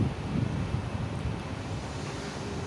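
Pot of rice with too much water boiling over onto a gas stove: a steady, close hiss and rumble with low bubbling throughout, and no voices.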